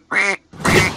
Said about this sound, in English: That is one sassy duck thing.